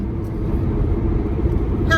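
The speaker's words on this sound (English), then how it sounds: "I gotta move over so these line of cars behind me can go by me" A line of cars driving past on a road, a loud continuous rumble of tyres and engines close by that holds steady throughout.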